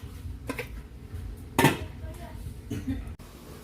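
A metal lid set onto a cooking pot while sautéed bitter melon and fried chicken are being made, giving one sharp clatter in the middle, framed by softer kitchen clinks and low background noise.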